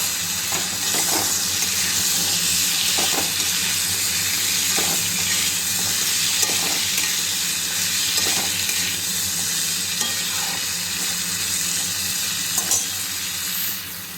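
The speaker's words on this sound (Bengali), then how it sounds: "কুমড়োটা ভেজে নেব।" Pumpkin pieces fry in a pan with a loud, steady sizzle, with periodic stirring scrapes and taps throughout and no talking.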